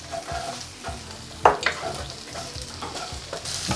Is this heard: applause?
no